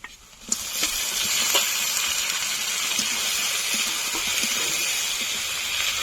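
Fried onions and meat for doi chicken drop into a hot pan, setting off a steady, loud sizzling hiss that starts abruptly and keeps going, with faint clinks of stirring.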